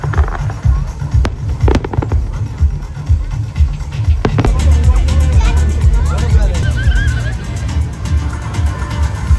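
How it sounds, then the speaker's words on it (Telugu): Fireworks at the Liwa Festival in Abu Dhabi go off in a few loud sharp bangs early on, then a steady rumbling crackle, with crowd babble and nearby voices throughout. "ఎవ్రీ 2 hours ఫైర్ వర్క్స్ కూడా అయ్యాయి."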